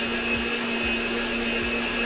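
An electric mixer beats eclair dough in a bowl with a steady, loud motor whine throughout, and faint rhythmic thumps from the beaters are heard under the drone.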